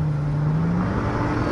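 A VW Golf GTI W12-650 accelerates at full torque in third gear, its engine note climbing steadily in a loud, close, continuous roar with no voices present.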